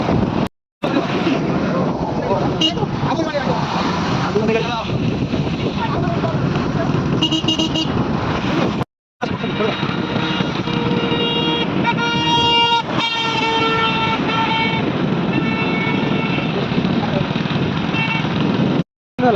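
Busy road traffic in Odisha near a bus stand, with engines rumbling and several car and truck horns tooting and blaring repeatedly, loud and close, while people talk throughout.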